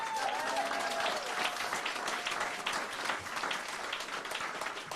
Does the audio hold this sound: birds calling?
no